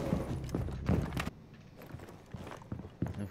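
Crouched enemy footsteps thump in Rainbow Six Siege, a few soft, irregular muffled thuds spaced apart after a burst of louder clattering movement, fairly close and faint, with no talk over them.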